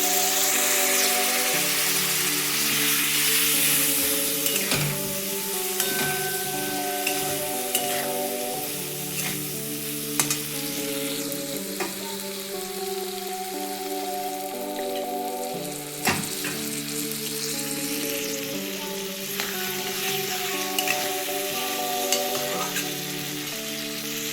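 Dry spices with turmeric and chili powder frying in a pan with a splash of water, a steady close sizzle with occasional stirring scrapes throughout, no talk.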